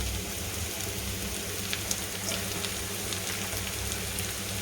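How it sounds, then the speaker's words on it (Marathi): Long-sliced onion for Manchurian sautés in a pan with a soft, steady sizzle and scattered small pops, fairly quiet and continuous, with no talk over it. "कांदा पण आपण छान असा परतून घेऊ"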